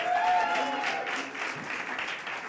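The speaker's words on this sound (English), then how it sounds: "Let's give a big round of applause to our great Lieutenant Governor Kathy Hochul" A crowd at a reproductive rights event in Brooklyn applauds Lieutenant Governor Kathy Hochul, a steady moderate wash of clapping with faint voices and a brief whistle near the start.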